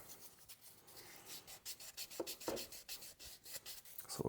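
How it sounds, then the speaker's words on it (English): A small tool rasps against the cut edge of a silver Australian florin coin ring in short, quiet, irregular strokes while it is deburred, close up with no talk. "And we always do a little bit of deburring on this cut side too."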